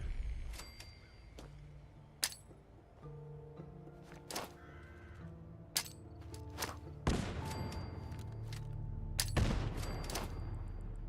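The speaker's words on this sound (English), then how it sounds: "Plenty of grenades. I'm gonna do some carpet bombing here." Grenade blasts in the video game Fallout 4 during a carpet-bombing barrage, a scatter of sharp booms and thuds over a steady low game rumble, with the heaviest explosions landing near the end.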